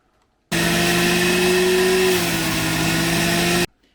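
A loud electric grinder grinding elderberry seeds whirs steadily for about three seconds, starting and stopping abruptly, its pitch dipping slightly midway.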